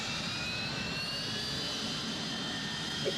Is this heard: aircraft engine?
yes